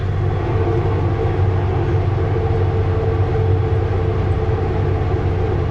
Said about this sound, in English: Full engine brakes.